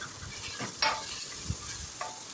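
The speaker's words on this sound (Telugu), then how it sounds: "కరివేపాకు వేసుకొని అలాగే పచ్చిమిర్చి కూడా వేసుకొని కలిపేసుకోవాలి" Curry leaves and green chillies frying in a pan for fish curry, stirred with a few scraping strokes over a soft, steady sizzle; close and fairly quiet, no voices.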